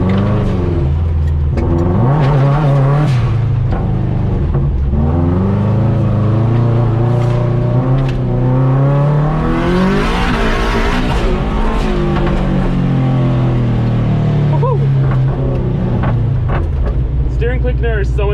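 A turbocharged all-wheel-drive Mazda Miata tearing around a rallycross course, the engine loud and continuous as it revs up and down through the gears, with a voice talking over it throughout.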